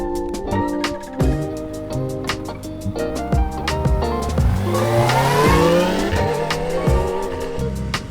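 A Kawasaki ZX-4RR motorcycle being ridden, its high-revving engine climbing and dropping through rapid gear changes in loud, close, rising tonal sweeps with sharp ticks between, with no talk.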